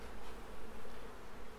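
Honey bees buzz in a dense, continuous swarm drone as they are shaken off hive frames while nucleus colonies are being made, a close, steady hum with no voices.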